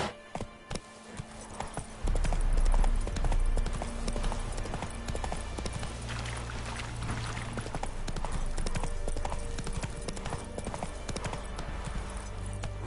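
Roach, a horse in a video game, gallops with a steady, rapid clip-clop of hooves that grows louder after a quiet start. A low rumble runs underneath and lasts throughout.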